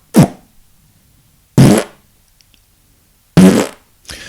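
Three short, buzzing lip-vibration bursts with a brief fourth at the end, each a sharp low drone separated by silent pauses, close and loud.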